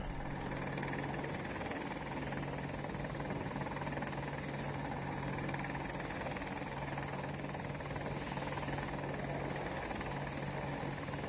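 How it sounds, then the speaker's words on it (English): Helicopter in the video game Battlefield 2042, a steady, loud rotor and engine drone with a constant low throb that holds unbroken for the whole stretch, with no voices over it. "We may or may not get the helicopter this time."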